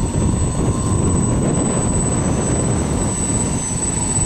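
A B-29 bomber taxis under its own engine power into a strong headwind, giving a loud, continuous, rumbling aircraft engine roar with heavy wind buffeting, close and steady for a few seconds.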